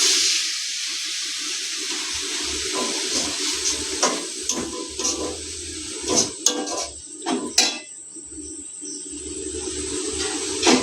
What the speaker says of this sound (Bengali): আচ্ছা, একটু দিন, জল দিয়ে দিই হালকা করে।